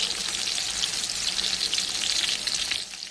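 Pan drippings and seasoning poured from a pan into a crock pot while making Salisbury steak gravy, a steady hissing, splashing pour that runs continuously and close up before easing off near the end.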